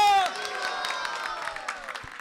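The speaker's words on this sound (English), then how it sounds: "Big round of applause for our Kartal, Mridanga and backup vocalists" An audience applauds and cheers for kirtan musicians, including kartal and mridanga players and backup vocalists. The scattered claps and crowd noise run steadily under sustained singing and instrumental tones.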